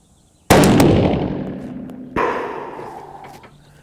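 Two sharp rifle shots fired at a target at an outdoor range, the first loud crack followed by a long rolling echo, then a second slightly weaker report about a second and a half later, both decaying slowly.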